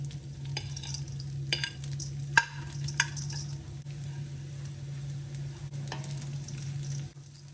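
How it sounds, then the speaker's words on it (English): Cooked jasmine rice is stirred in a pot with olive oil, a low steady sizzle under scattered scraping clicks from the spoon, close and moderately loud, with no talk. "In the same pot, we're going to add a little bit of olive oil and then go in with our perfectly cooked, singled out jasmine rice."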